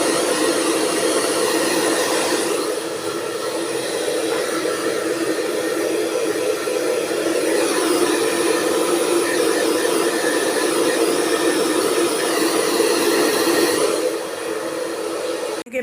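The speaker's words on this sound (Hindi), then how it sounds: "सो ड्रायर लगा के बाल सुखाते हैं" A hair dryer blowing while drying hair, a loud steady airy roar running continuously with slight shifts in tone as it moves, close by.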